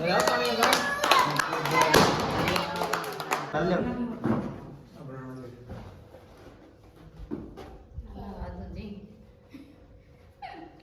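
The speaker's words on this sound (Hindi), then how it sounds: "हैप्पी बर्थडे बजाओ ताली" Group of people clapping along at a family birthday party, irregular taps and claps mixed with loud singing and chatter, fading into talk.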